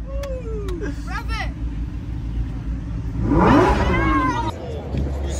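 A green Lamborghini SVJ supercar revs at a car event starting grid, its engine note swelling loudly midway through amid crowd noise and talk, with other vehicles idling nearby.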